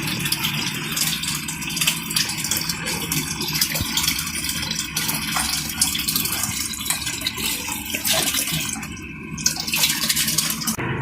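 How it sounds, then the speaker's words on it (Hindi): Water spills over from a completely full household water tank in Karachi, a continuous rushing splash with a faint rattle and mechanical hum underneath, steady and close throughout. "पूरा टैंक भर गया,"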